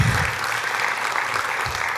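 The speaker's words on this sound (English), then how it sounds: "So can we give them a round of applause?" An audience at a students of color graduation celebration gives a steady, full round of applause to the celebration committee, dense and continuous throughout.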